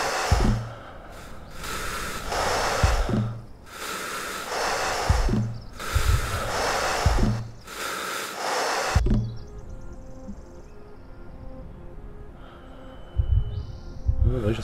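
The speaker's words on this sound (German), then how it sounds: "Ja, da ist ein leichtes Schnaufen rum" A character in Accident: The Pilot breathes heavily, a run of loud rasping breaths and gasps in a steady rhythm, then quieter sounds with faint electronic tones and a final breath.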